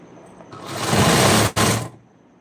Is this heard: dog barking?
no